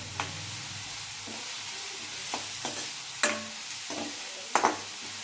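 Chopped onions are stirred as they fry in a pan for dhaba-style whole masoor dal, giving a low continuous sizzle with several spaced spatula knocks and scrapes, two of them louder.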